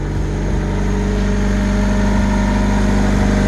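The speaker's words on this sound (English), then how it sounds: "The idle's coming down." A Honda Civic that is throwing misfires on all four cylinders idles steadily and close by, with a loud, even engine hum and a faint rhythmic pulsing and no talk.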